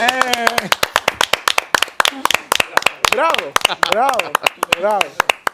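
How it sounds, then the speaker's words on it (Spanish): Crisp, close rhythmic clapping from a studio audience during a live broadcast programme, sharp regular hand claps heard under people talking loudly and cheering. "¡Un aplauso!"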